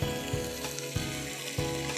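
Peanuts sizzle and fry in a hot pan of oil, a steady crackling hiss punctuated by four louder stirring or tossing bursts at regular intervals, close and fairly loud with no talking.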